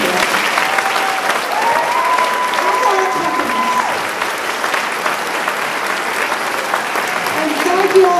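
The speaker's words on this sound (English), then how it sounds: "Could I have another round of applause for our amazing group?" An audience applauds a school band from the Campbell School, with steady, dense clapping filling the room at an even level throughout, plus a faint murmur of voices in the mix.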